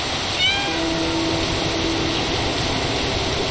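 A cat meows in the video game Stray, a single clear drawn-out meow near the start, carried over a constant low ambient hum that continues alone afterwards.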